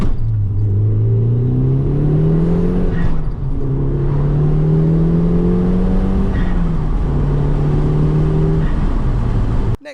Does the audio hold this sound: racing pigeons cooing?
no